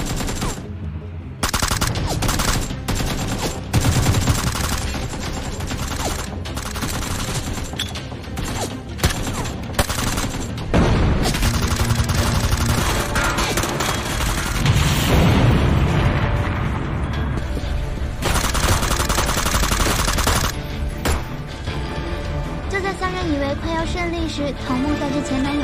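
A film battle scene during a raid on an enemy camp: rapid machine-gun bursts and rifle fire crackle almost nonstop for over twenty seconds, punctuated by heavy booming explosions, loud and chaotic with brief gaps.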